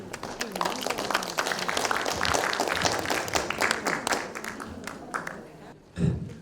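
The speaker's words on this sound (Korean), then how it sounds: "박수로 환영해 주시기 바랍니다" An audience at a Korean regional literature exchange gathering claps to welcome a speaker, a moderate room of hands clapping steadily that tapers off near the end, with some voices mixed in.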